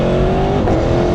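A 2018 Aprilia Tuono V4 1100 Factory motorcycle's V4 engine accelerates hard, a loud close snarl rising steadily in pitch, then shifting briefly, over heavy wind rush.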